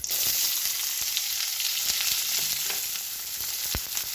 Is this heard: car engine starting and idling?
no